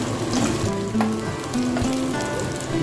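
Garlic sautés in a pan for chicken neck adobo, a dense steady sizzle with stirring clatter and a few tonal scrapes of the utensil, close and loud, without any talk.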